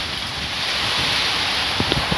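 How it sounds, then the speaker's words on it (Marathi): Strong wind roaring steadily through trees during heavy monsoon rain in Konkan, a constant broadband rush with a few faint low thumps near the end. "इकडं वारा खूप सुटलाय."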